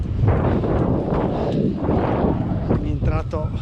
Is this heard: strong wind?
yes